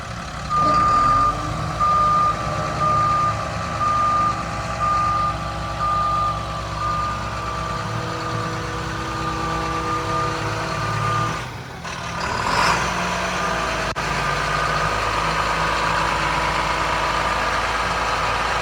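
A bucket truck idles with a heavy, steady engine drone while a reversing beeper sounds repeatedly as its outriggers are drawn in, followed by a hydraulic clunk and continued idling, with no voices.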